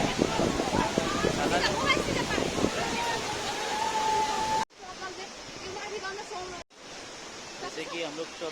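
A Nepali waterfall roars as a steady, broadband wash of rushing water, recorded close, with the sound dipping briefly twice as the recording cuts.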